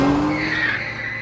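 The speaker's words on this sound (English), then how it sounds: "a car screeched to a stop in front of us" Car tires screeching to a sudden stop in a dramatized escape scene, one loud sustained squeal with skidding rumble underneath, close and alone.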